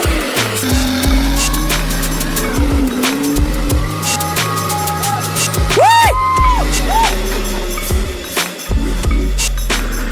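A timber truck reverses steadily with a loud, continuous low engine drone and shifting mechanical tones, plus a brief rising-and-falling whine near the middle; no one speaks.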